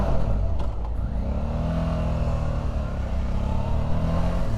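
A motorcycle engine roars and revs loudly up close after a missed gear shift, its pitch climbing and sagging in a continuous rumbling drone.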